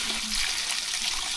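Water runs from a tap in a steady, full rushing stream, close and loud, continuous throughout the short stretch with no talk.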